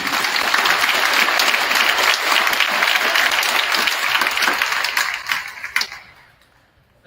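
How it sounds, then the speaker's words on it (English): A crowd in a high school gymnasium gives a round of applause for veterans at a women's varsity basketball game, loud sustained clapping that thins out and fades to near silence in the final second. "Please give them another round of applause for the veterans"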